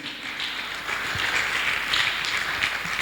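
A church congregation at a Sunday service applauds Jesus in a sustained, even wash of many hands clapping together, moderately loud and continuous from start to finish.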